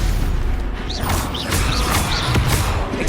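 A Stupefy spell cast in Hogwarts Legacy produces a dense, loud magical whoosh with thudding low booms and a few brief rising shimmers.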